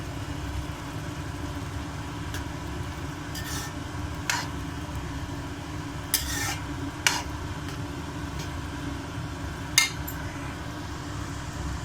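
Salt and chili powder are stirred into a curry in a pot. A low, steady background hum runs underneath, broken by several sharp, scattered clinks and scrapes of a spoon against the vessel.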